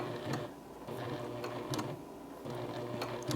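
A Juki Haruka TL-18QVP sewing machine stitches at a moderate pace, a soft, steady mechanical hum with rhythmic ticking needle strokes roughly every half second, fairly quiet and close.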